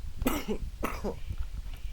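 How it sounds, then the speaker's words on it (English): Two or three short, close coughs in quick succession, fairly quiet, with no speech around them. "I don't know why I keep coughing or anything."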